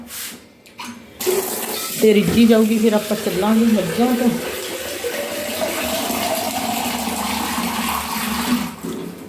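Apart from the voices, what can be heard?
pouring water from a jug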